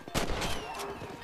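Gunfire aimed at a cow in the Red Dead Redemption video game comes as a quick burst of several sharp, loud shots within about a second.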